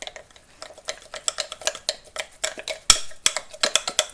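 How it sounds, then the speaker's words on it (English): Sourdough starter being stirred vigorously in a container, a run of quick scraping clicks and taps of the utensil against the sides, close and fairly loud, with one sharper knock near the end and no talking. "And we'll give it a good vigorous stir."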